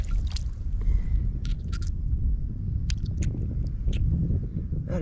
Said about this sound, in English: I'm gonna go wash this bottle off